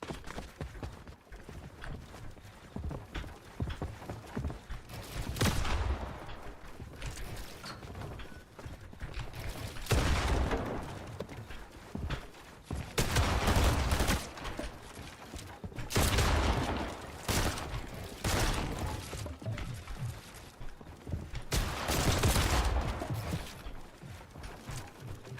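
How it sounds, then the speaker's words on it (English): Shotgun blasts in the video game Fortnite, several loud broadband bursts spaced a few seconds apart, each with a short tail, over quieter game background noise. "Shotgun noise trips me out because it sounds like I'm gonna be out of ammo"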